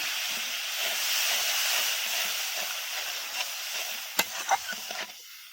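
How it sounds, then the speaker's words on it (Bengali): Water poured into fried spice masala in a pan for a small-fish curry sets off a steady, bright hiss of sizzling and bubbling, easing off toward the end with a few sharp clinks of a spoon against the pan. "এবার আমি অল্প করে জল দিয়ে দিচ্ছি।"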